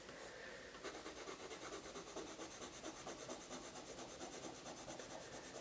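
A Faber-Castell Polychromos colour pencil scratches across paper in quick, even back-and-forth strokes. The rasping is close but quiet and carries on without pause, with no talking.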